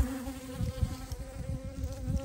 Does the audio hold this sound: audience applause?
no